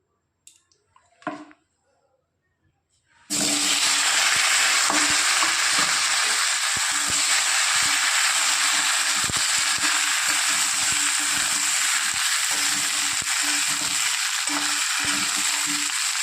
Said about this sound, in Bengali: এবার একসাথে ওই তেলেই ভেজে নেব।